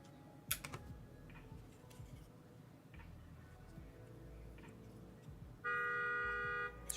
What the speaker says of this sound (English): Who's honking outside?